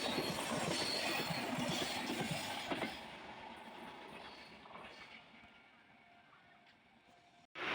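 The New Delhi Kerala Express rolls through Edappally railway station in heavy rain, its wheels clattering and squealing loudly at first, then fading into a distant rumble and rain hiss.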